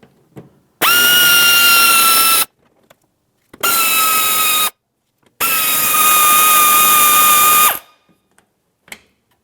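A cordless power drill backs out 5.5mm bumper cover screws on a Ford Flex, three loud close whirring bursts with rising pitch separated by short pauses.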